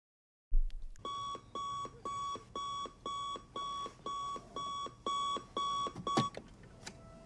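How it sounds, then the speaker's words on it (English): Alarm clock ringing in a movie scene, a steady electronic beeping in about nine evenly spaced bursts, loud and close, with a brief clatter near the end. "I used to have that exact same alarm clock"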